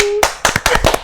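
Bright hand clapping on a podcast set: a short burst of about six quick, uneven claps close by, following a brief steady tone.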